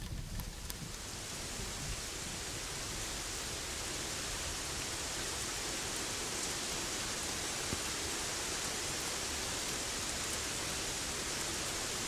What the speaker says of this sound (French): on entend chaque goutte qui tombe